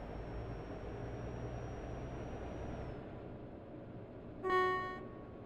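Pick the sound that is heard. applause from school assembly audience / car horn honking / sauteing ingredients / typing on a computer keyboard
car horn honking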